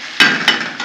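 A lid set down onto a cooking pan, two sharp close clacks a moment apart followed by a softer knock, brief and loud.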